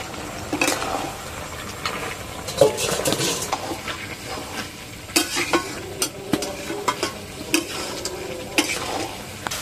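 Potatoes being stirred into frying Bengali-style chicken curry in a pot, steady sizzling with repeated scraping and clinking of a metal spoon against the pan.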